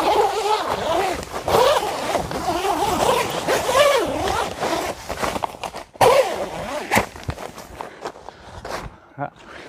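A zipper closure is drawn shut on a Caperlan Tanker, a Decathlon fishing shelter, with quick scratchy runs of zipping and fabric rustle close to the mic, broken by a sharp click near the end.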